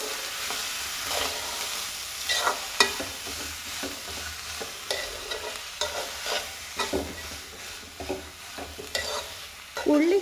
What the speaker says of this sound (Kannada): ಈ ಕಾಳನ್ನ ಇದರೊಳಗಡೆ ಹಾಕಬೇಕು ಕಾಳನ್ನ ಹಾಕ್ಬಿಟ್ಟು ನೀಟಾಗಿ ಮಿಕ್ಸ್ ಮಾಡಬೇಕು